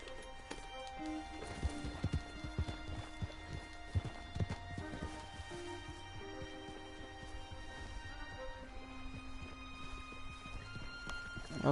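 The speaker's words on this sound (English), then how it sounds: "Hold on, isn't this my horse?" Horse hooves clip-clop in Red Dead Redemption II, a steady rhythmic trot of a nearby horse over a bed of layered game music, with no talking.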